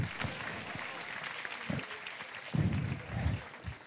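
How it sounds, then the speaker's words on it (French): Audience at a church gathering gives a quiet, scattered round of applause, faint and distant, with a few louder low thumps and murmuring voices mixed in. "Ah, on peut l'applaudir."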